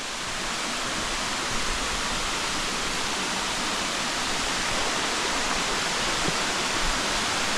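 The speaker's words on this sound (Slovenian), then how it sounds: "je tale stegovniški slap kukar nalašč za ogled. Kar lep, tak širok." Stegovnik waterfall near Tržič, Slovenia, a wide fall running with somewhat low water, roars as a steady, loud, broadband rush close by with no voices.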